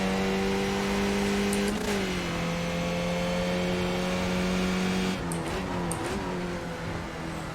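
A Skip Barber race car in the iRacing sim accelerates, the engine holding a steady loud drone with pitch dips at two gear changes, then rising again, no talk.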